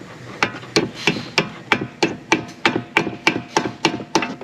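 Repeated sharp hammer blows strike a brake caliper pin during front brake replacement on a 2017 Audi Q5, about a dozen evenly spaced metallic knocks in steady rhythm, close and loud, with no talking.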